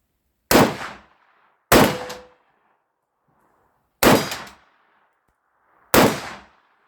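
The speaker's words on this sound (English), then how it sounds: "So let's fire a few shots like this." Four loud rifle shots ring out at an uneven pace, each a sharp crack with a short reverberating tail, and quiet gaps fall between them.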